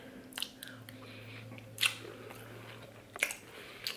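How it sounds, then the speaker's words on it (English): Crunchy cereal being eaten close up, a few distinct bites and crunches spaced across a quiet room with a low steady hum beneath. "This cereal's pretty good."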